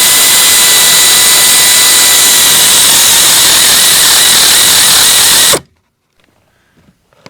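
A power tool tightens a screw on a 2002 Acura MDX during a cabin air filter replacement. A loud, close, continuous whirring runs for about five seconds, then cuts off abruptly into near silence.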